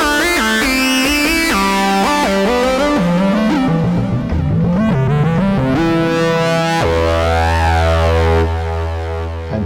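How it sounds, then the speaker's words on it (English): A psytrance synth lead from a Vital preset: sawtooth waves pushed through a resonant filter and distortion, giving a loud, buzzing, harmonically dense tone that glides and bends in pitch, then settles into a steady sustained drone with a sweeping filter. "it's just the sawtooths pass through a filter and distort it"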